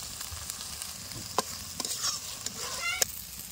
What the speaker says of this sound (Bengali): এবার একটু জল দিয়ে কষিয়ে নেবো মশলাটা।